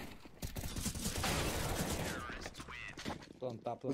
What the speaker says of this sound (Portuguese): Não acertou o tiro, mas o VSM não levou a C4.